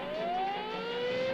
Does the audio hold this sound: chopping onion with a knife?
no